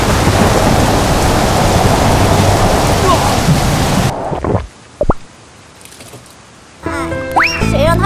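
A heavy rainstorm with thunder roars loud and dense for about four seconds before cutting abruptly to near quiet, followed by a few brief unrelated sounds.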